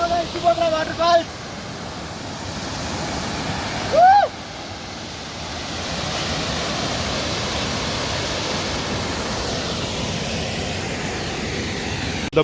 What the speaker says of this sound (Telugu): The beautiful waterfalls.